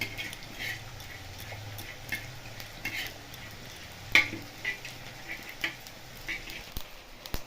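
Whole black pepper and cumin seeds frying in a pan with a little oil: a quiet, steady sizzle with scattered soft ticks and pops as the spices are stirred, no talking.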